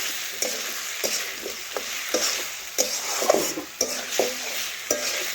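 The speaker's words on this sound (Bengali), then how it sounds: "একটু এগুলাও ভালোভাবে মশলার সাথে মিশিয়ে নিচ্ছি এভাবে নাড়াচাড়া করে।" Fried pumpkin fritters are stirred into spice masala in a pan, a spatula scraping and knocking the metal about once a second over a soft, low sizzle.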